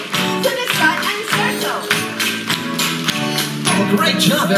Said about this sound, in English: The good thing about this clapping is that the rhythm will never change.